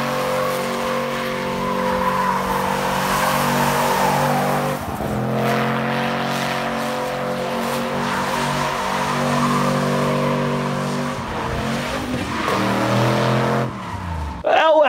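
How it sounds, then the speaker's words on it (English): A 4.8-liter Chevy LS V8 in a 2011 Chevy Express van revs loudly and steadily up close, its pitch rising and falling, with tire-like squeals and brief shifts in tone. "It's got a Chevy engine."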